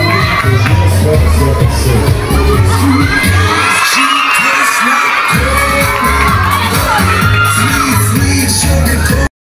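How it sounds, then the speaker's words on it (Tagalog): Students at a school modelling contest scream, shout and cheer excitedly in a loud, continuous crowd roar, with shrill children's whoops rising and falling over a pounding music beat. "mga hiyawang-hiyawan at kilig na kilig ang mga estudyante"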